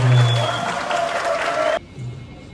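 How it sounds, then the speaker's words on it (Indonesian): Audience applause at a school assembly at an Islamic senior high school, steady broadband clapping that cuts off abruptly near the end, leaving a brief quiet stretch with a faint voice. "Tepuk tangan untuk Pak Ramawan."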